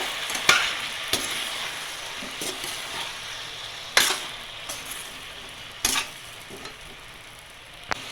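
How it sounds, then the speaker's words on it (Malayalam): Spices and bilimbi fry in oil for a pickle, with a soft steady sizzle broken by sharp metallic scrapes and clinks of a spoon against the pan at irregular intervals. "അത്യാവശ്യം നന്നായിട്ട് വഴന്ന് വരുന്ന ഇരുമ്പുളി"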